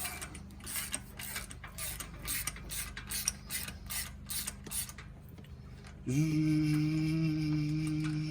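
A ratchet pulls spark plugs out of a Suzuki G16B engine with a run of quick, close clicking strokes, followed by a steady mechanical hum after about six seconds, with no talk.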